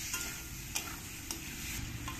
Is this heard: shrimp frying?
yes